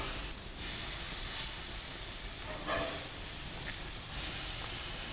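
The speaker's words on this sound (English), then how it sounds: "I'm actually going to flip them over and put them to a side of the grill that has not been used yet." Turkey burgers sizzle on a cookout grill just after being flipped onto a fresh, unused spot, giving a steady, hissing fry that swells briefly a few times, with no voices.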